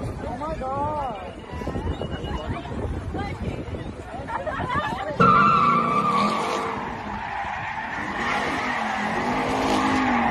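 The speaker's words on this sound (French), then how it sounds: "ont décidé qu'ils allaient faire euh, un peu de dérapage" Cars drift and skid on a city bridge, tires squealing loudly in a long screech that erupts midway, while a crowd of onlookers chatters and talks beforehand and underneath.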